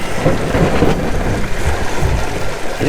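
Heavy rain and a thunderstorm roar around a Windrider 17 trimaran under sail, a dense, loud, continuous wash with low rumbling.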